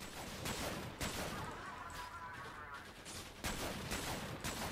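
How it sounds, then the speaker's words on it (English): Bursts of gunfire in the video game Sophonce come in quick, loud clusters with a quieter gap in between. Faint talk sits underneath. "someone is shooting me"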